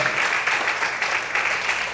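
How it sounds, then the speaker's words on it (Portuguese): A church congregation applauds during a Portuguese-language sermon, a steady wash of clapping that swells and holds for two seconds with no voice on top. "Será que você pode aplaudir o Senhor por isso?"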